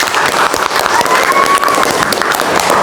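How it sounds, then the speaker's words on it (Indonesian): Lively applause from an audience at a religious teaching session, steady dense clapping throughout with voices and cheering mixed in. "yuk kita apresiasi diri kita dengan tepuk tangan yang meriah"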